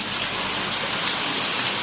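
Steady rain pouring down on outdoor cactus plants, a dense continuous hiss of drops with no breaks, fairly loud and without speech.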